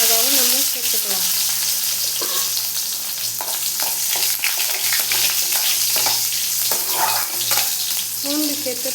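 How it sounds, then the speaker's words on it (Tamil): Cumin seeds crackle and sizzle steadily in hot oil in a pan, a close, continuous frying hiss with small pops, while a person talks over it at times. "சீரகம் நல்லா பொரியட்டும். நல்லா பொரியுதுங்க."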